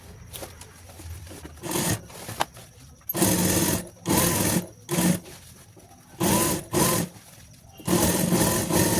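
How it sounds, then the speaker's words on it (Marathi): A sewing machine stitches old denim jeans fabric into a saree cover, running in several loud, close bursts of rapid mechanical whirring separated by short pauses. "या साईडने छान पॅक करून घ्यायची आणि यावर वरून शिली मारून घ्यायची"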